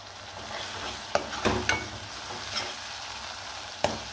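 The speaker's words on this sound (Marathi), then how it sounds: "मसाला चांगला भाजून घेऊ." Ground masala paste fries in oil in a pan with a close, steady sizzle, broken by a few sharp scrapes and clacks as a spoon stirs it.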